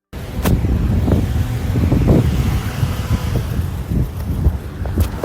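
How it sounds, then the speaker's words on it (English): Cars speed past on a sunny highway in a steady, broad roar, with wind buffeting the microphone and a few swelling passes rising above the constant rush. "We stood out there in the sun, listening to the cars go past."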